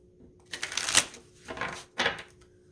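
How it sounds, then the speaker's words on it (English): Tarot cards are shuffled up close, with three quick riffling bursts of flicking, papery clatter and short pauses in between. "One more shuffle."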